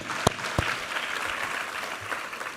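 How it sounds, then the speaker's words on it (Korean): A congregation at a Sunday church service applauds, a couple of sharp nearby claps followed by steady, even clapping from the whole room. "우리 하나님께 감사와 영광의 박수 올려드리겠습니다"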